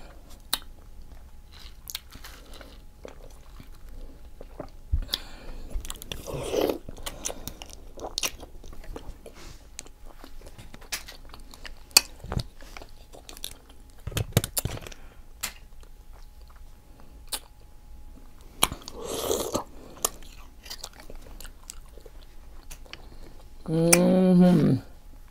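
Close-up biting and chewing while eating octopus and other seafood, with wet crunches and smacks spaced irregularly, and a brief burst of speech-like sound near the end.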